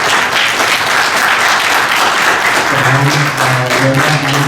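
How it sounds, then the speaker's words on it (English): Audience applause for a discussion panel on AI agents, dense steady clapping from a crowd filling the room, with a low hum entering toward the end. "A round of applause for them."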